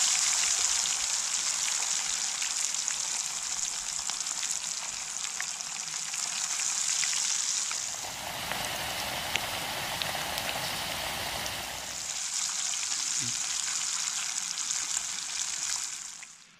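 Oil sizzling for French fries at a forest campsite at night: a dense, even crackling hiss, close and steady, that dips and changes character briefly in the middle before resuming, with no voices.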